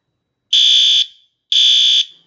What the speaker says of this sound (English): Very impressive, the alarm turned on immediately, which is telling us how fast the circuit responds.